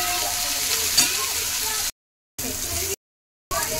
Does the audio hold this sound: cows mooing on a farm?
no